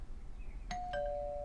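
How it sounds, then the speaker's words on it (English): A doorbell gives a two-tone ding-dong. Two clear struck chimes follow each other about a quarter second apart, and the tones ring on and sustain against a quiet room hum. No one speaks over it. "The doorbell. I want to answer it."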